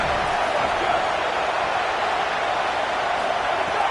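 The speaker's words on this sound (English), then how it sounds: "Listen to this crowd just shaking the girders of this place trying to help their defense." A packed stadium crowd at a football game roars in a dense, continuous wall of noise while the home defense is on the field, loud and sustained throughout.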